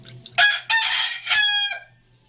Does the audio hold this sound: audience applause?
no